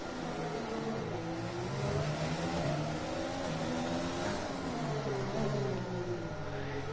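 A race car engine at the Azerbaijan round drones steadily throughout, its pitch sweeping up and down through several early gear changes while seeking traction, loud and continuous.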